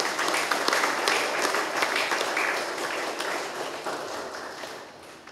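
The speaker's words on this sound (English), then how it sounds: "Let us give the newly married couple a big round of applause." Wedding guests in a hillside chapel applaud the newly married couple, a dense, even wash of clapping that holds steady and fades slightly toward the end.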